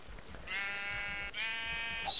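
Two drawn-out sheep bleats from the Minecraft video game, each about a second long and fairly faint, come one after the other with a short gap, over low background noise.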